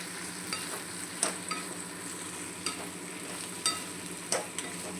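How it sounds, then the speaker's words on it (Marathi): Okra tossed with masala in a pan for home-style masala bhindi, with a steady soft sizzle under a few sharp spatula scrapes and clicks spaced through the stretch, no voices. "भेंडी चांगली मिक्स करून घ्यायची एकजीव, जे मसाला व्यवस्थित लागतो आपल्या भेंडीला."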